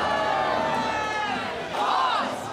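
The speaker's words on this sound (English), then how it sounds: "The crowd is calling for more brutality from Gigapaz." A large crowd at a robot combat event roars and chants loudly, with rising and falling shouts sustained throughout.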